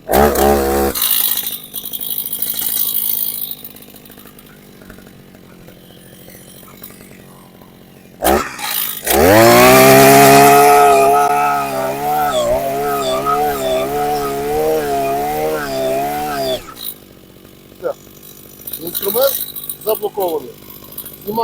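A Husqvarna 541EA petrol earth auger revs up loudly in a strong tonal whine that holds for several seconds and then drops away, with quieter engine idling and handling noise before and after.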